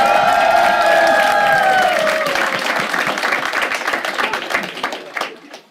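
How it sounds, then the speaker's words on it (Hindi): A stand-up comedy audience breaks into loud, sustained applause with clapping and some cheering, the dense clatter building after a brief tonal swell and then gradually thinning out toward the end. "एक बार अच्छे से ताली बजाओ"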